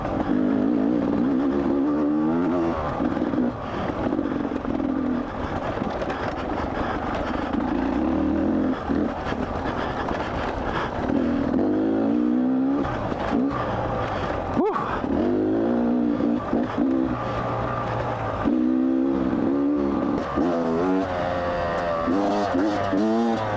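Beta 300 RR two-stroke dirt bike engine revving repeatedly close by, rising and falling throttle blips with sustained high-rpm pulls, fairly loud and continuous, with brief voice sounds mixed in.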